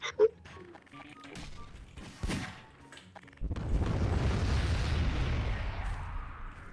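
A bomb explodes in Garry's Mod after a few scattered game clicks and blips, bursting into a loud, sustained rumbling blast that roars on for several seconds.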